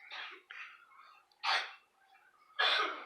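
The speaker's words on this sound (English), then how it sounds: "Sorry, my son's coughing away back there all loud." A child coughs in short, harsh bursts, four separate fits spaced unevenly, fairly close and loud against an otherwise quiet background.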